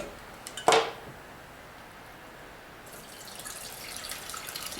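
Homemade citrus vinegar is poured through a strainer in a kitchen, starting with a short clink and splash, then a faint, thin trickle that grows a little toward the end.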